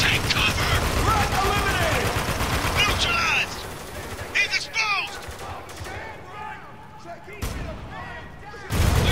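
Heavy gunfire rattles in a Spec Ops: The Line firefight, loud bursts of shots and impacts at first, then fading into scattered sharp cracks and clinks, with voices heard between the shots.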